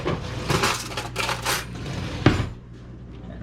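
A metal fork clatters and scrapes against a bowl of breadcrumbs, a run of bright, close scratchy strokes ending in one sharp clink, then quieter rustling.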